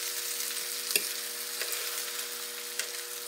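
Chicken pieces fry in an electric fryer with a steady, broadband crackling sizzle, and a few sharper pops stand out above the constant hiss.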